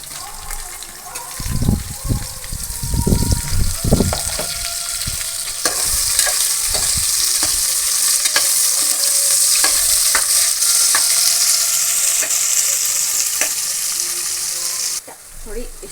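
Onions sizzle and fry steadily in hot oil for a home-style vegetable pulao, with stirring bursts early on and a continuous loud crackle that runs to the end, where it briefly dips.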